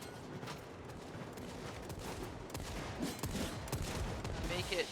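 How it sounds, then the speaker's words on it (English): Rapid gunfire from a weapon in the Warframe video game, bursts of sharp shots crackling through a busy, moderately quiet game soundscape, with speech faintly present. "I love how this gun sounds"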